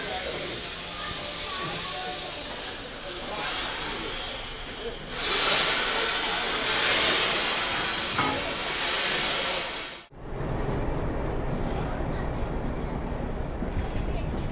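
A Southern Railway steam locomotive on the Nilgiri mountain railway hisses loudly at a station, the steam surging and then cutting off abruptly, followed by a quieter rumbling background.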